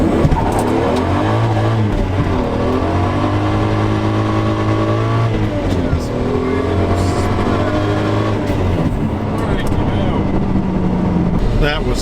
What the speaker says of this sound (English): just wheel spin. The road is wet.